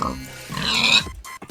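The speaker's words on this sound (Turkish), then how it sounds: "Burada domuzlar var. Onları bir keseyim." Pigs in a modded survival video game give a brief burst of close, nasal grunts lasting about a second, with no talk over them.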